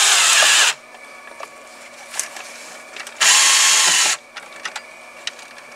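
A power drill drives screws into the aluminum trim of a Tesla Model S in two loud, close whirring bursts, the second about a second long. Faint clicks and handling noises fill the pause between them.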